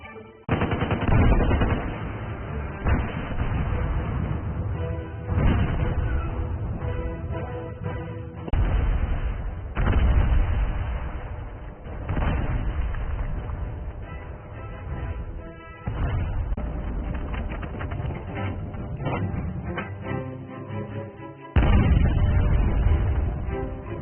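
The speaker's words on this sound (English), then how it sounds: "Shells impact the Abrams, but its composite armor, designed for modern anti-tank rounds, shrugs them off." Artillery shells burst around an Abrams tank under German field-gun and howitzer fire: loud repeated booms and rattling blasts, broken by several abrupt cuts.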